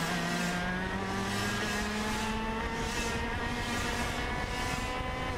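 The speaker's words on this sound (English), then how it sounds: "Dante up on the wheel, learning a ton here, running at the front of the X30 senior pack." On-board engine note of an X30 senior racing kart during a SKUSA Pro Tour SpringNationals race, a loud, steady high-revving drone with rising and falling pitch as the kart accelerates and brakes, other karts close around it.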